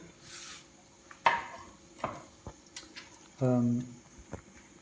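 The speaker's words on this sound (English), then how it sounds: "Some coriander seeds, which we crush with the back of a spoon." Coriander seeds being crushed with the back of a spoon, a few separate dry cracking taps and scrapes spaced unevenly, close by, with a brief voice in between.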